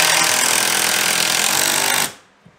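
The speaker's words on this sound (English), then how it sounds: "you can drive this other screw in" Power driver spinning a screw into wood framing in a mobile home, a loud continuous whirring grind for about two seconds that stops sharply, followed by a faint tap.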